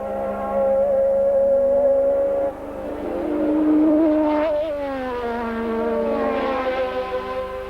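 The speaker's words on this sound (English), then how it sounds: "number 8 in the Marlboro McLaren with the Ford Cosworth DFY engine, the latest one" A Marlboro McLaren Formula One car with the latest Ford Cosworth DFY non-turbocharged engine, racing at the 1983 Austrian Grand Prix, howls loudly with steady high revs, pitch dropping and rising through gear changes and a passing sweep.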